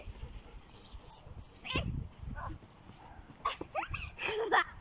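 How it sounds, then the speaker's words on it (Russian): A dog on an evening walk near a school sports ground gives a few short barks and whimpers, fairly close, between bursts of people talking and other outdoor noise. "Ну и собака."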